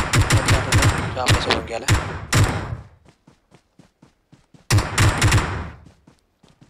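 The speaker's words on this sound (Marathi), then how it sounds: "तर एनिमी फायरिंग तर करतोय पण कुठून करतोय कळायला मार्ग नाही आहे" Enemy gunfire in a competitive multiplayer shooter match: rapid bursts of loud, close shots in two volleys, with quieter sparse single reports between them, while a player talks over the action.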